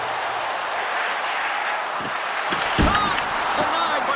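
A body check in an NHL 26 hockey game knocks the puck loose, heard as a sharp board-rattling slam followed by a few quick thuds and clacks over a constant arena crowd hum.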